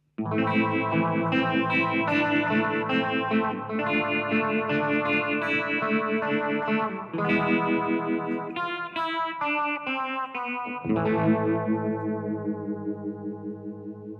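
An electric guitar on a pedalboard rig plays steady chords through a tremolo effect, the volume wavering rhythmically, with a pause and a final ringing chord that fades out.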